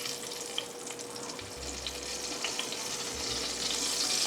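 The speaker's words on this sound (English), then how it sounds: "So we're gonna put these in, and we really want to cook on all sides." Short ribs searing in a hot pan give a steady, close sizzle that holds throughout, with a low hum running underneath.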